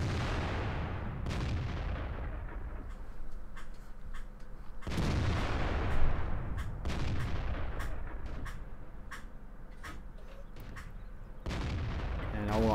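In World of Tanks, the FV207's big gun fires several heavy booming shots, each followed by a rumbling decay, spaced a few seconds apart over faint background ambience.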